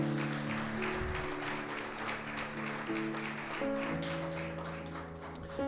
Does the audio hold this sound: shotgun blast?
no